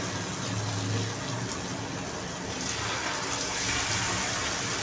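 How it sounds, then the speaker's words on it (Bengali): Semolina pakoras dropped as small pieces into a pan of hot oil, frying with a loud, steady sizzling hiss that carries on without a break. "তেলটা গরম হয়ে গেছে, এখন পকোড়াগুলো ছেড়ে দিব।"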